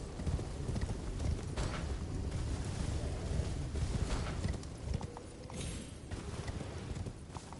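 Horse hooves clip-clop at a steady gallop in the video game Elden Ring, a dense, continuous rhythmic pounding with no voices over it.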